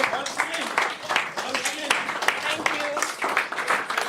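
An audience at a legal ethics academy session claps, with scattered, uneven hand claps. Voices talk over the clapping the whole time.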